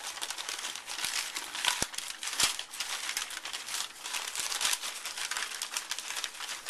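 A paper bag being opened and handled for a paper bag album crinkles and rustles close up in a continuous busy stream, with a few sharper crackles and no talk.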